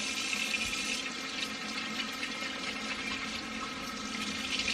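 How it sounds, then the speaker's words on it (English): Hands are washed under a steadily running kitchen tap, a continuous close rush and splash of water with no pauses, heard during home cooking. "Let me wash my hands again."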